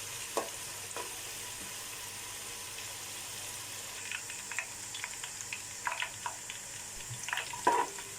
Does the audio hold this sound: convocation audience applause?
no